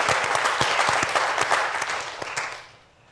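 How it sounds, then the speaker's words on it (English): A round of applause from an audience at an event on the Asian American immigrant experience, with brisk clapping that holds steady and then fades out toward the end. "Can we give them all another round of applause?"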